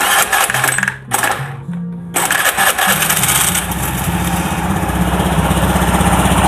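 Honda Beat FI scooter engine running with its CVT cover off, a close, steady buzzing idle with brief dips early on before settling into an even drone, no talking.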